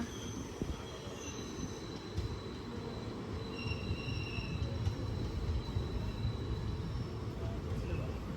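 A passenger train, the Kachiguda–Guntur express, departs Shadnagar station, rumbling steadily with faint squeals from the wheels, a continuous loud roar throughout.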